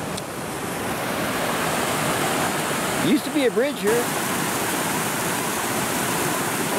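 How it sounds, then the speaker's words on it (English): Drake Creek rushes along a hiking trail, its steady broadband roar close and constant throughout. Someone speaks briefly over the flowing water partway through. "I've arrived at Drake Creek."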